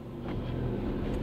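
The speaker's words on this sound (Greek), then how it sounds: "με τη μηχανή που κάνει θόρυβο" A noisy motorcycle passes along a street, a steady low engine rumble holding throughout at moderate level with a slight rise in the middle, heard alone without talk.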